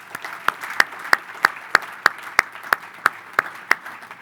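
Audience at a business conference clapping, heard as a single evenly spaced clap repeating about every third of a second, crisp and close, with soft background noise.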